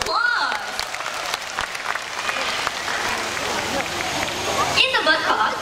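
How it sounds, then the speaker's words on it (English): A bird show audience claps in a steady, dense wash of applause that swells and fades, with crowd chatter mixed in. "So let's give them a big round of applause."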